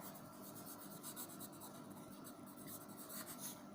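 Pencil writing on paper during a geometry construction, a soft, continuous scratching and rubbing that stays faint throughout.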